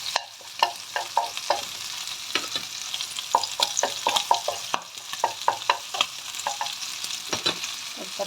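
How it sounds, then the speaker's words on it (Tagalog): Garlic sautéing in a pan for a Filipino mung bean soup, with a steady sizzle of frying broken by frequent sharp clicks and scrapes of a utensil stirring, close and moderately loud, with no talking. "gisa natin yung bawang"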